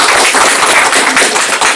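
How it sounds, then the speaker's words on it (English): Applause from an audience at a Scrum Bangalore agile meetup talk, dense steady clapping throughout, moderately loud and without speech. "Round of applause, please."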